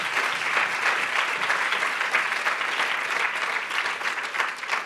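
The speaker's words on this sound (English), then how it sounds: "let's give Congressman Harris another round of applause" Warm, sustained applause from a conference ballroom audience after a congressman's address, many hands clapping in a dense, even roar for about five seconds with no talking over it.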